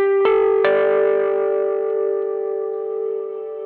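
Two guitar notes are plucked in quick succession and ring out as a sustained, shimmering drone through a Chase Bliss MOOD looping pedal, smeared by effects that keep the tone gently evolving.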